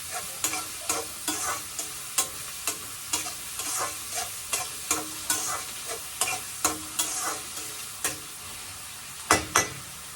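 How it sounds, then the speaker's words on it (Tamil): Onions and masala sizzle in a pan for a seafood curry, with a spoon scraping and stirring in a steady rhythm of sharp clanks over continuous frying, close and fairly loud. "இப்போ நல்லா வதங்கட்டும்"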